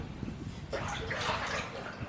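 Floodwater churning around a flooded, evacuated home in St. Elizabeth, Jamaica: a steady rushing wash of moving water that swells louder after a quieter opening, continuous and fairly close, with no talk over it.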